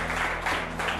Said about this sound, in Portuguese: Uma salva de palmas pela vida dele.